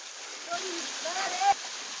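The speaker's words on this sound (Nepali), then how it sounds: "छाँगा ठुटे खोला झर्ना धर्मदेवी नगरपालिका 5 सङ्खसमा रहेको यो झर्ना है" Thute Khola waterfall in Dharmadevi Municipality ward 5, Sankhuwasabha, gives off a steady, fairly faint rushing hiss of falling water, with a few brief splashy accents along the way.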